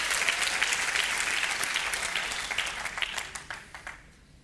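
Church congregation applauding during a sermon, a thick wash of clapping that gradually thins into scattered individual claps and fades out.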